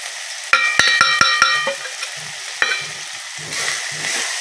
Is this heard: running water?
no